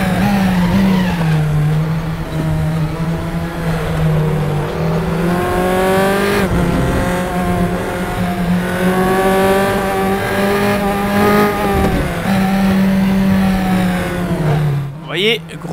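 Race cars in the RaceRoom racing game, engines droning and shifting pitch as they brake hard into corners, loud and continuous under excited commentary.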